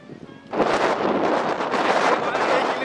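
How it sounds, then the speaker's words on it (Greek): Loud, broadband wind gusts buffet the microphone after a quiet start, roaring steadily for a couple of seconds. "τώρα εντάξει ακούτε τον αέρα"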